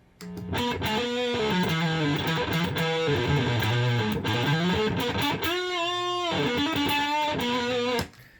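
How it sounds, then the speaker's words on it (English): A BOSS SY-1 synthesizer run through fuzz gives a thick, distorted, sustained tone that holds loud and continuous for about eight seconds, shifting pitch through a gliding line before cutting off abruptly. "Here's my fuzz."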